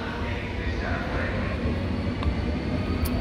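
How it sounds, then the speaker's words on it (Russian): A train at a railway station in Italy near Venice, a low, steady rumble with faint squeals and clanks, while voices talk nearby. "Это не наш поезд, не наш поезд."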